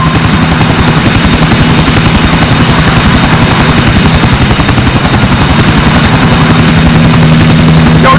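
Loud, steady helicopter rotor thudding with a constant engine whine in GTA 4, filling the whole clip without a break.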